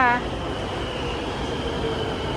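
A train rolls past with a steady, dense rumble that continues throughout, close and fairly loud, after a short voice at the very start.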